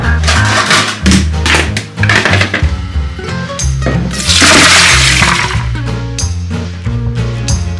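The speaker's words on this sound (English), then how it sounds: "So now they are soaked already. I will drain the water." Water pours and splashes out as it is drained from overnight-soaked beans, which clatter and shift in a pot, close and loud, with a gushing rush midway.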